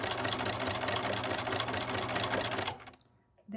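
A Bernina sewing machine fitted with a ruffler foot pleats fabric in a fast, steady, close-up stitching chatter that runs loud for nearly three seconds, then stops abruptly into near silence.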